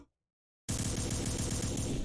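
Rapid gunfire from the video game Contra bursts in suddenly after a moment of silence, a loud continuous machine-gun rattle with no talk over it.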